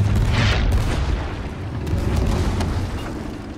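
A sloop being destroyed in Sea of Thieves lets out a heavy, rumbling explosion that rolls on for several seconds, loud and close, then slowly fades.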